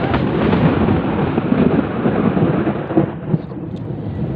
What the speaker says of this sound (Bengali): প্রচুর বিদ্যুৎ চমকাচ্ছে, আপনারা হয়তো বা শুনতে পাচ্ছেন।